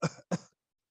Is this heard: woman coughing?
yes